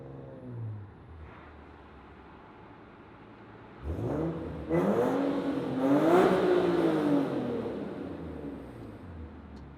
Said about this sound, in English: how much we all love revving through tunnels, so I'll show you what that sounds like